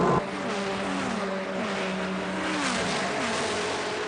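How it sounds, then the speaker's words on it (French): A Ferrari 550 Maranello race car pulls out of its pit stand at the 24 Hours of Le Mans, its engine note climbing through gears in a steady loud roar, with other cars faintly underneath. "la Ferrari 550 Maranello sort de son stand"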